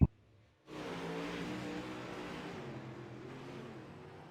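UMP modified race car on a dirt oval, its engine droning steadily as it laps through turns three and four, a sustained loud roar that starts abruptly after a brief quiet gap and holds with slight swells.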